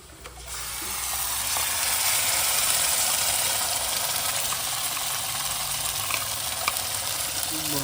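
Cumin, chilli, ginger and garlic paste frying in a pan, a loud steady sizzle that swells up in the first second and holds evenly throughout, with faint stirring scrapes.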